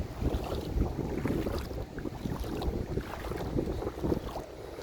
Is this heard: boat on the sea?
yes